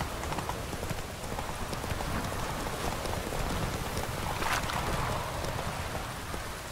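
Hooves of Roach, Geralt's horse in The Witcher 3 video game, clip-clopping at a steady pace through continuous rain-like outdoor ambience, with no voices over the busy, even sound.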